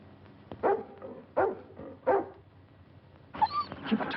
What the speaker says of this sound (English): Keep a tight grip on that dog.